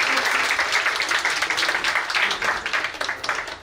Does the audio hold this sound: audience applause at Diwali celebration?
yes